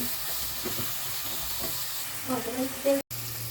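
Onions sizzling in a frying pan for fried rice, a steady close hiss of frying with occasional stirring scrapes and faint speech in the background.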